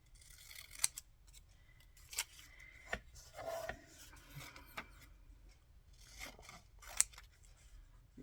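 Scissors trim a roughly cut paper cutout for a collage page, giving a handful of sharp, close snips at irregular intervals against a quiet room with no talking.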